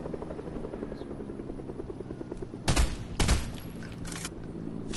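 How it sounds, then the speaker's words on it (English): A video-game helicopter thrums steadily and close with a fast rotor pulse, joined midway by two sharp bursts of rapid gunfire that briefly overpower it. "this helicopter just came up on me like that"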